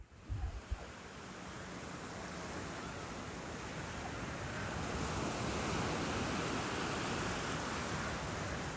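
Calm sea waves wash steadily onto Praia do Forte beach in Brazil, a soft continuous surf hiss that swells slightly louder toward the end, with a few brief low bumps at the start and no voices.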